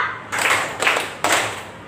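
A school class claps three times in unison, evenly spaced bursts ringing out close by with short pauses between them.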